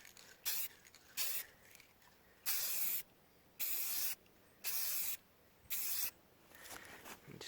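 Tint coat is sprayed onto the tail lights of a 1992 Jeep Cherokee XJ in six crisp, loud hissing bursts of about half a second each, evenly spaced with brief gaps.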